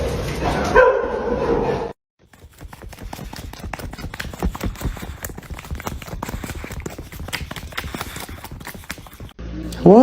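A dog gets excited over McDonald's fries and lets out a rapid, steady run of sharp yips and barks close by for several seconds, with brief talk at the start.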